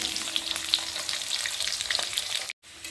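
Potato pieces frying in a pan, a steady close sizzle with faint crackles and scraping stir sounds that cuts off near the end after a brief silence.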